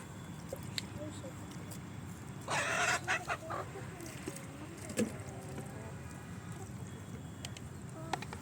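Free-ranging country chickens cluck softly around a farm, with a brief louder burst of fowl calls midway and occasional low voices in the background.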